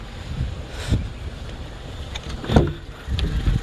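A Suzuki Every DA64 van's replacement turbo engine idles steadily with a low rumble, with occasional bumps and brief rises in noise, no talking.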